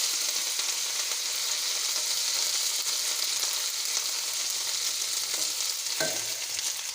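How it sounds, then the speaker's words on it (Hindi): Garlic-ginger paste frying among golden onions for dhaba-style chana dal, a steady close sizzle that hisses on without a break and ends in a brief clink near the finish. "अब हम इसमें लहसुन अदरक का पेस्ट डाल देंगे। और इसको 2 से 3 मिनट तक हम भून लेंगे।"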